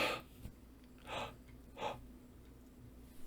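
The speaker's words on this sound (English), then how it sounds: "wow, I needed to yawn." A woman lets out a yawn as a soft, breathy exhale, followed by a couple of shorter airy breaths, close and quiet, with no words spoken.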